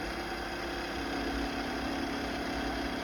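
A Tineco floor washer running its automatic brush roller self-cleaning cycle gives a steady, loud motorised whir with a watery hum underneath, unbroken throughout.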